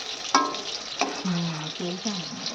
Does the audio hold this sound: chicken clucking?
no